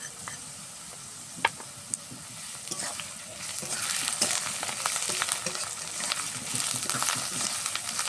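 Ginger paste and ground cumin, coriander, chilli and turmeric fry with salt for a banana flower curry, a crisp sizzle that swells and crackles as the mixture is stirred, with a few sharp spoon clicks near the start.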